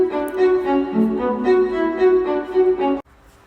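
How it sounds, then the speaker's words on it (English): Staccato strings from a song, a tight run of short, clipped bowed notes in a steady, insistent rhythm, loud and upfront, ending abruptly into near silence. "First is the staccato strings that go like this."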